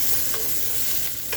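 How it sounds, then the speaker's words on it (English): Chicken fajita ingredients sauteing in a pan, a steady close sizzle with brief stirring scrapes, no talking. "I will finish sauteing these"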